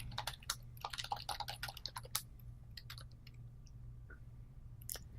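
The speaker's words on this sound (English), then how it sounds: "You're preparing to type." Typing on a computer keyboard during a DOS game session, bursts of quick close clicks in an uneven rhythm, then sparser taps after a short pause, over a low steady hum.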